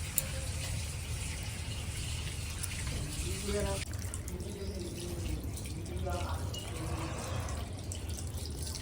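Pieces of rohu fish, including the head, rinsed under a running tap, with a steady rush of water and splashing, while voices talk over it.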